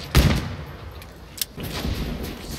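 Shotgun blasts in a Call of Duty game, a loud close shot at the start followed by sharper, fainter reports, with no one talking.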